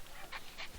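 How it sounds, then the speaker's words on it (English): Wolf puppy at an eco zoo in Nevada, giving a few soft, faint whimpering yips in short bursts, close by and quiet with no talking. "Oh, cute puppy. A wolf puppy."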